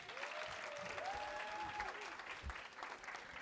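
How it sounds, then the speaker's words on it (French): A crowd claps steadily for several seconds, dense and lively, with a faint high whistle-like tone sliding briefly through the middle. "faites un petit applaudissement pour Nico là quand même."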